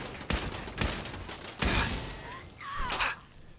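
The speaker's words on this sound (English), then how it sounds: "Oh, that's a turret shooting me." A Fallout 4 turret fires at the player in several separate sharp bursts, spaced irregularly and moderately loud, with a faint high whine near the end.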